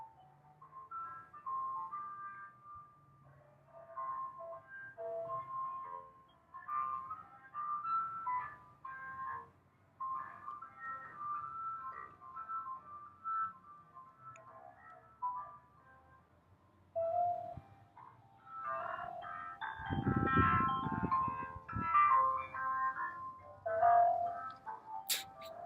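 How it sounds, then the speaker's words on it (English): An ice cream truck plays its tinkling electronic jingle, a looping chime melody that repeats steadily at moderate volume, with a brief low thump partway through. "take that ice cream truck for example"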